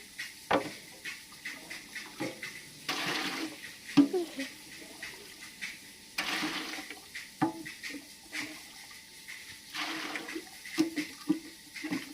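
Water splashes and pours into a bucket in intermittent bursts, with quieter dripping and handling noises between the pours.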